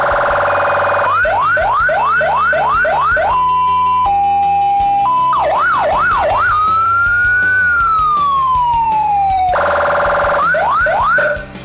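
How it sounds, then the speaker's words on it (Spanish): A loud electronic police siren, a Monomando X100F, cycling through tones: rapid yelping whoops, a two-tone hi-lo, a slow wail, then back to fast yelps. "Esta sirena Monomando X100F puede guardar los diferentes tonos que tengan"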